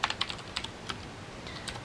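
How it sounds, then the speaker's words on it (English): Quick keystrokes clatter on a computer keyboard as text is typed, a brisk irregular run of close, clear clicks with no talking. "I'm just going to type in happy-go-lucky"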